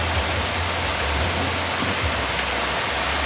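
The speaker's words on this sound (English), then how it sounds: "Nice little waterfall." A small waterfall at the Polynesian Cultural Center in Hawaii pours steadily, making a broad, continuous rushing wash that stays even throughout with no speech.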